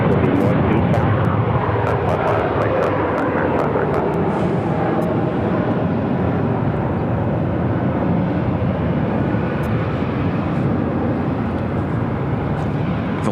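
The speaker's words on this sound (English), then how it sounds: "737-900 ER will be the next takeoff" A jet airliner, a Boeing 737-900ER, takes off at Phoenix airport, producing a loud, sustained engine roar at close range that stays strong for the whole stretch, with a voice speaking over it.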